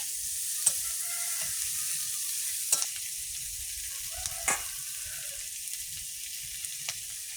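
Chopped onions and chilli frying in a pan as the base for a fish curry, with a steady close sizzle, occasional small pops and crackles, and no talking.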